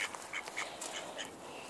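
Ducks quack in short, fairly faint calls at a farmyard, several scattered quacks over steady outdoor noise with no talking.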